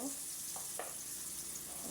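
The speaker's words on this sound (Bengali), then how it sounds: "এইভাবে আলুটা সুন্দর করে ভেজে নিবা তোমরা" Potato pieces fry with turmeric and a little salt in hot oil, a steady soft sizzle with a couple of faint stirring scrapes, no talking.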